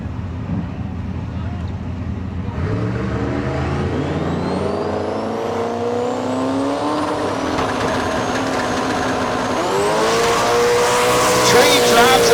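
Drag racing cars at the Street Car Super Nationals in Las Vegas scream down the strip during the final rounds, their engine pitch climbing steadily as they accelerate. The sound is loud and continuous, with an announcer's voice over it.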